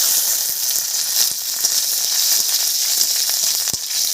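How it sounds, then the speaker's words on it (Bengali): Panch phoron spices and green chillies fry in mustard oil in a hot wok, giving a steady, close, loud sizzle with small pops throughout. "ফোড়নটা ভাজা হয়ে গেছে"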